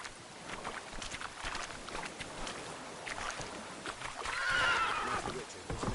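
In the video game The Witcher 3, the horse Roach gives a brief whinnying neigh near the end amid hoofbeats and ambient game sound, with faint talk nearby.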